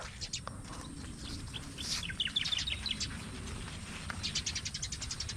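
Several birds chirp and tweet in quick, high bursts over a steady low rumble of background noise, fairly close by, at a string bean field.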